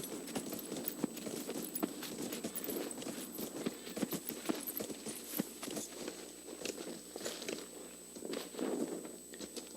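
Rhythmic clip-clop of a horse's hooves walking in Dragon Age Inquisition, steady paced steps over a busy ambient bed, moderately close and without talk.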